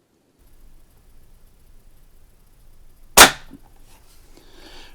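A single sharp crack from a Barra 1866 air rifle fired at a leprechaun target, close and loud against near silence, followed by faint rustling and handling noise.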